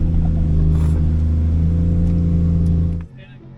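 Drift car engine on a Japanese street holding a loud, steady high-revving drone for about three seconds, then cutting off abruptly, leaving quieter background with voices.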